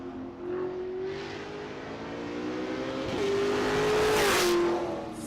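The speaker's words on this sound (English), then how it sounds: "God, Peters is looking so good out there in that Corvette." A Corvette race car drives hard on a hill-climb track with a loud, sustained engine drone. The pitch rises and shifts as it accelerates and changes gear, then fades slightly at the end, with no speech over it.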